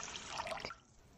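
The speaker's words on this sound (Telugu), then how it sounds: "2 కప్పుల నీళ్లు పోసుకొని" Two cups of water poured over washed ragi and fenugreek seeds set aside for soaking, a short close trickling pour that fades after about half a second into quiet, with a small knock at the end.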